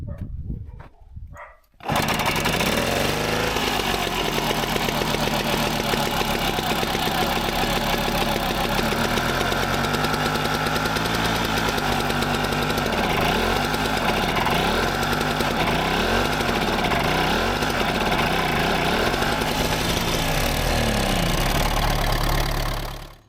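An MTZ-80 tractor engine starts up after a brief quiet moment and runs steadily and loudly, with a rhythmic mechanical chug throughout.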